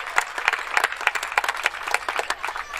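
Audience applause at a football club's centenary celebration, a short burst of distinct, fairly close hand claps with an uneven rhythm, heard alone without talk.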